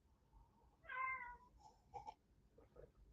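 Cat giving one clear, drawn-out meow followed by a couple of fainter short mews, heard up close in a quiet room.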